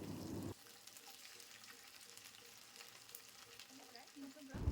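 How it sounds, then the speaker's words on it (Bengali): Sliced okra frying in oil with a tempering of mustard seeds, dry chilli and curry leaves, a soft continuous crackling sizzle between louder bursts of stirring clatter at the start and end. "এরপর ফোড়নের সাথে ঢ্যাঁড়স কুচি খুব ভালো করে মিশিয়ে ভেজে নেব।"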